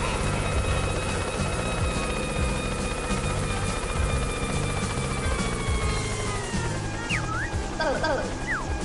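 Video game helicopter mode in Yooka-Laylee: steady rotor chop and whirring engine hum drone on, ending with rising and falling synthetic sweeps as the transformation kicks in.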